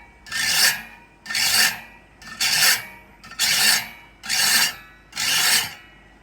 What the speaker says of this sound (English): that's why the iron sharpener is very useful, because you can just run it along and away